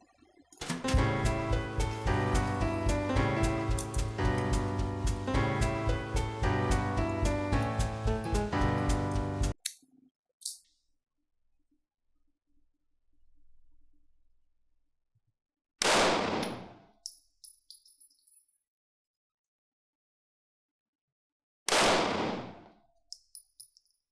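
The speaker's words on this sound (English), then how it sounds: "we're just going to shoot the gun to see how it is" Several loud, sharp reports from a Ruger American Compact pistol fired at a range, spaced a few seconds apart after a stretch of music, each with a quick decaying ring and no talking.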